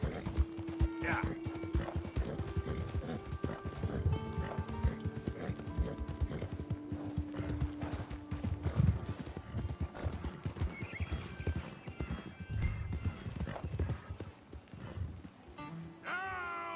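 Hooves of a horse in Red Dead Redemption 2 clip-clop in an uneven, ongoing rhythm with an occasional whinny, while someone talks over the game sounds.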